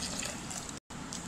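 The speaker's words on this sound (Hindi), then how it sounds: "अब हम थोड़ा सा पानी ऐड करेंगे।" Water is poured into a jug of sardai batter, making a steady hissing, splashing rush up close that breaks off briefly and then resumes.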